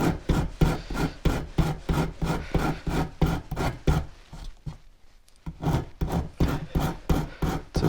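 Walnut wood is filed with the rough side of a rasp, going with the grain, in a steady series of close, gritty rubbing strokes, with a brief pause midway.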